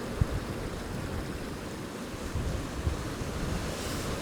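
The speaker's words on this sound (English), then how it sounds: "I've had to turn you around again because the wind's so strong" Strong wind buffeting a microphone at the seashore, with a steady broadband roar of surf and gusts and occasional low thumps, no voices.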